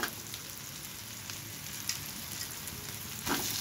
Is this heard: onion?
yes